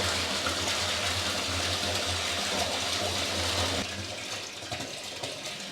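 Water pumped from a well gushes steadily into a tank with a loud, continuous rushing sound that softens noticeably partway through.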